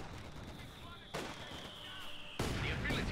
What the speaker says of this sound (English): Mortar teams just opening fire.